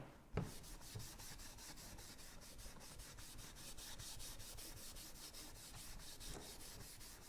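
Clear wax being rubbed by hand onto the end of a piece of wood stained with red milk paint, a steady close soft scraping and rubbing that runs throughout, with one louder knock near the start.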